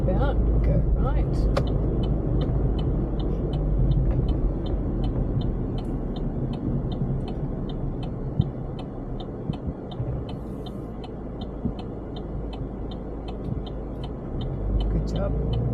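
A car drives steadily through town during a driving test, with a continuous low engine and road rumble and a regular ticking indicator, while people talk inside the car.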